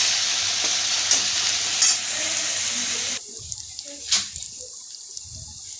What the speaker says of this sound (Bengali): পেঁয়াজের পেস্ট, এটা যাচ্ছে পেঁয়াজ বাটা